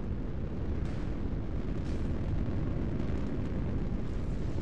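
Incoming shells strike a warship in a naval video game, heard as a dense, continuous low rumble of blasts and impacts, loud and sustained with no breaks.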